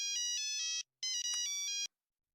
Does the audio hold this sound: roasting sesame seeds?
no